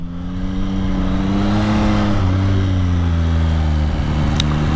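A Yamaha MT-09 Y-AMT big bike's engine drones loud and close while riding, a strong steady hum whose pitch rises and falls gently with the throttle.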